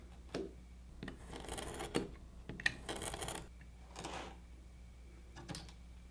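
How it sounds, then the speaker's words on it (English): A knife drawn along a straight edge slices thin wood veneer in a precision jig, giving several short dry scraping strokes with brief gaps between them, close and fairly quiet, with no voice. "I can take my knife and cut along here just like I did before"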